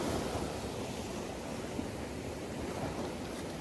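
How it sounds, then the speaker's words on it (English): Sea waves break over rocks along a UK shoreline while bass fishing, a steady broad roar of surf with wind buffeting the microphone and no voices. "Just got to watch waves behind me, so breaking over the top of the rock."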